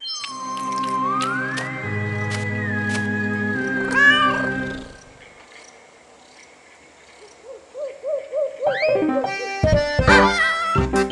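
Cartoon kitten meows in an English-learning pet game, heard as a few short synthetic mews over bright, steady game music with chiming tones and a rising sweep, fairly loud and with no talking.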